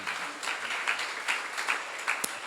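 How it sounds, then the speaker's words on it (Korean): A congregation at a church seminar claps briefly, a moderately loud burst of many hands with uneven rhythmic peaks, fairly close, tapering off at the end. "박수 한번 하세요."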